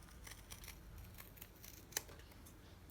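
Quiet snipping of scissors cutting fabric for a front pocket, a series of soft close cuts with one sharper click near the end, no talk.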